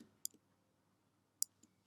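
Two quick, faint double clicks from a computer mouse sound about a second apart in a quiet room while a title sequence is being edited in Premiere Pro.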